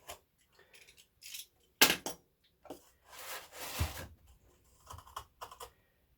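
Cardboard packaging around a K40 Cloudray replacement laser tube is sliced open in several short bursts of scraping and ripping, with one sharp louder tear near the middle and quiet pauses in between.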